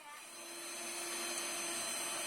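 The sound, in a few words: hand mixer kneading donut dough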